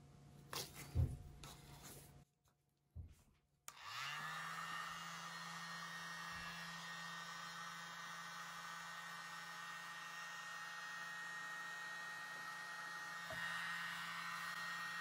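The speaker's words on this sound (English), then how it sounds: "I think I'll use my mini blower, but I'll take the end off of it." A mini blower with its end removed, blowing on poured acrylic paint in a paint-pouring session, runs as a steady loud whir for most of the clip after a few light handling knocks at the start.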